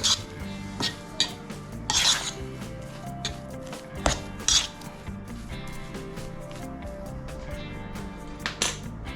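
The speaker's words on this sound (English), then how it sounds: "I'm just going to mix that around with a fork" A fork scrapes and rasps against a dish while salt and pepper are mixed into a corned beef and potato pie filling, in short irregular scraping strokes over quiet background music.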